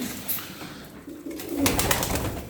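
Tumbler pigeons coo in a coop, a short soft call building into louder, fuller cooing near the end, close by and with no talk over it.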